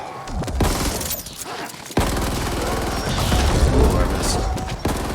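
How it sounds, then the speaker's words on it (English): Shock grenades going off in the sci-fi video game Ascent: a rapid crackling burst, then a sharp blast at about two seconds followed by sustained rattling, shattering detonations and mechanical clatter, loud and busy throughout. "Shock grenades"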